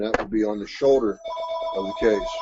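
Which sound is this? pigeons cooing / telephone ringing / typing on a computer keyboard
telephone ringing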